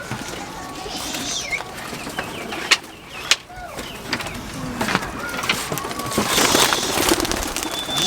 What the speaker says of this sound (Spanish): Tienen un criadero de palomas en la parte superior del edificio.